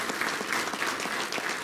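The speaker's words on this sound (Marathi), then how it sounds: "अशा सगळ्या कुटुंबासाठी टाळ्या वाजवा" A crowd claps steadily at a Marathwada Mitra Mandal felicitation ceremony in Ahmednagar, honoring organ donor families. The applause is dense and continuous, with no voices over it.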